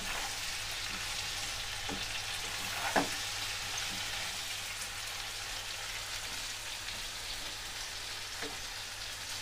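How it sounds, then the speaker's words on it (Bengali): Vegetables and salt are stirred in a frying pan while making navaratna korma. A steady, soft sizzle runs throughout, broken by a few faint scrapes and taps of the stirring spoon. "লবণ দিয়ে ভালো করে এবার নেড়ে নেব।"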